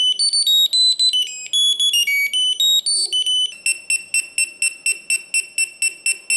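A Jio Tag Bluetooth tracker beeps loudly and close by. A quick run of melodic chirps gives way to a steady train of evenly spaced, repeated pulsing beeps.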